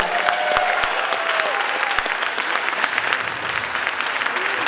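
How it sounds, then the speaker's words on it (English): Parents and family applaud fifth grade scholars at a River Rouge moving-on ceremony, a steady, lively round of clapping from a crowd, with a few whistles or cheers rising above it. "Let's just give these wonderful 5th grade scholars another round of applause."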